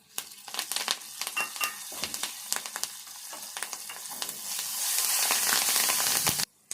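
Curry leaves drop into hot oil with frying peanuts, setting off a loud, crackling sizzle with sharp pops and stirring scrapes that swell into a dense hiss before stopping abruptly.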